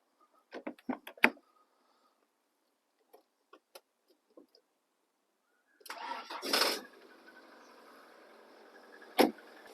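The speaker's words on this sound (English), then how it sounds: "And now we should find the car will fire up." A car with a flat battery, jump-started from a spare battery through jump leads: a few soft clicks and taps, then the starter cranks and the engine fires with a louder burst before settling into a low, quiet idle.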